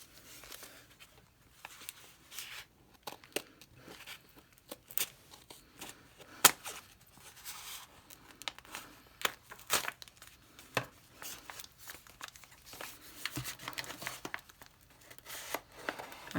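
Scissors cut open a decorated paper envelope from a PO box with soft, close snips and crinkles, irregular and quiet, with rustling paper between the cuts.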